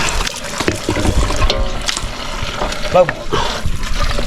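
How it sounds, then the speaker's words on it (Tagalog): Water is poured into a cooking pot set over a fire, a gushing splash heard briefly amid loud talk and clatter. "Lagyan ko dito tubig rin."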